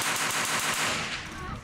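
Rapid automatic gunfire at a military reenactment show, a dense loud burst of machine-gun shots in quick rhythm, close and continuous before trailing off.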